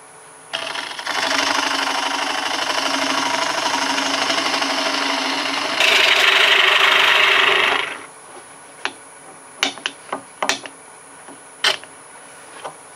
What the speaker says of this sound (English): Now I'm going to start hollowing the bowl out.